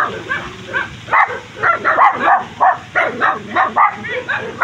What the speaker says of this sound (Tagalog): Ang tapang ng aso.